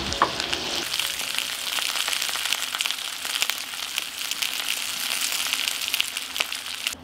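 Meat frying in a pan makes a dense, steady sizzle with crackling pops, close and continuous, no voices.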